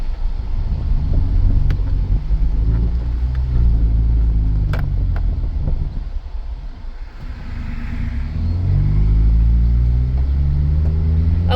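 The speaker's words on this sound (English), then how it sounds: "the exhaust is a little bit louder" A 2011 Ford Escape engine idles and revs with a deep, steady, slightly loud exhaust rumble, dipping briefly before building again; no talking.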